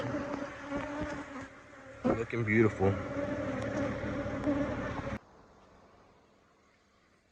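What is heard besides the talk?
honey bees buzzing around hive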